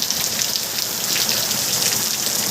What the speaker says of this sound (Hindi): मुनस्यारी में बारिश